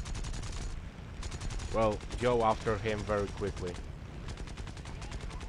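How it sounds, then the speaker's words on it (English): Fighter-plane machine guns rattle in War Thunder aerial combat with Japanese aircraft, rapid bursts of steady repeating fire running through most of the stretch while someone talks over it. "My machine guns were enough to set him on fire."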